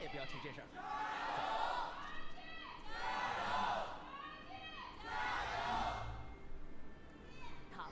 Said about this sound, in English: hear those crowds scream for this first game